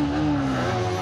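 A Yamaha R15 motorcycle on a night Diwali ride, engine running steady and loud with a droning, slightly falling tone, close to the listener.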